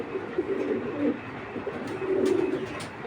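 A Belgian bloodline racing pigeon coos softly and close by, two low murmuring phrases over faint background noise.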